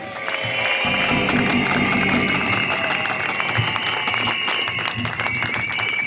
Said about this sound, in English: Give Richard Gates a huge cheer.